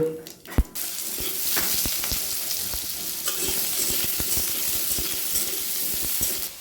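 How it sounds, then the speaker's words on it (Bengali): Potatoes frying in hot oil with cumin seeds tempered in, a steady close sizzle with repeated scraping and stirring clicks of a spatula against the pan, no voices. "এবারে জিরেটা ফোড়ন দিয়ে আলুটা ভেজে নেব"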